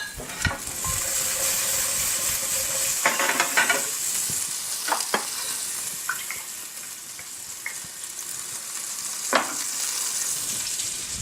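Sweet pepper sautés in a pan over medium heat, a continuous close sizzle broken by several sharp scraping stirs and clatters, the hiss easing slightly partway through, with no talk.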